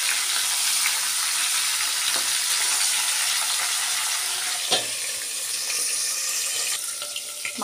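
Fish heads frying in oil in a pan for a Bengali muri ghonto, a continuous loud sizzle with occasional stirring clinks and no talk.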